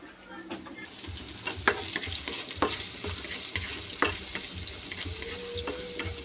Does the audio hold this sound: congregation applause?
no